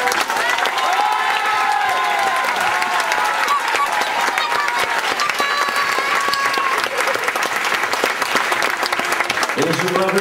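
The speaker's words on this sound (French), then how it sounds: "je vous demande aussi d'applaudir Véronique et Maud" A crowd at a Breton Celtic dance show claps and cheers loudly and continuously, with some whistles rising above the sustained applause and a voice speaking briefly near the end.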